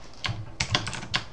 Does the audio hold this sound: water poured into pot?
no